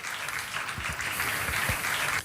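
Audience applause after a speech, a continuous crackling wash of clapping hands throughout with a few deeper thumps underneath, ending in a slight drop.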